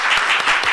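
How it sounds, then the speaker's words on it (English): Applause breaks out at a city council committee meeting for a District 9 council member, a dense, continuous crowd clapping that fills the room at steady loudness. "Let's give him a big round of applause."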